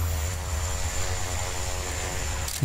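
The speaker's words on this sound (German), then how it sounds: "Gut, dass die Drohne den wenigstens verfolgen kann." A drone flies in the emergency-services game Emergency 2017, its steady whirring engine drone constant and fairly loud throughout, with a brief clunk at the end.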